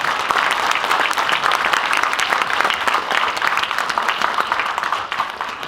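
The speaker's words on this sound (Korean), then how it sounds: "다시 한번 큰 박수 한번 부탁드립니다." Sustained, even applause from a seated audience at a Korean independence-activist award ceremony, steady and fairly close with no voices over it.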